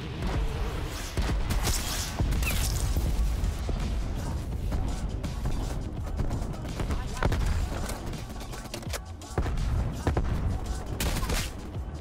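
Call of Duty Cold War match with an M82 sniper rifle amid dense game gunfire and explosions. Cracks and blasts come in bursts throughout, loud and busy, and a player talks over them.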